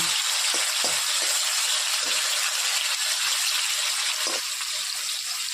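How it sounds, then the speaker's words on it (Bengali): Chopped tomatoes frying in a pan for a soyabean kosha curry, a constant hissing sizzle with a few soft stirring knocks, close and steady. "টমেটোটা আগে ভালো মতো কষিয়ে নেব, ভেজে নেব"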